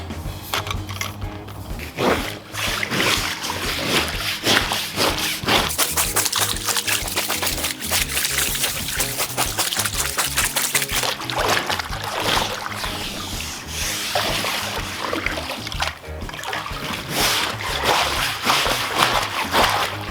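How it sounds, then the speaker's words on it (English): Scrubbing and sloshing water as a brush works algae off the walls of a draining above ground Bestway pool, rough rhythmic rubbing strokes with splashes continuing steadily and fairly close. "I'm going to go ahead and hit the sides with my brush here, break off some of that algae so it drains out."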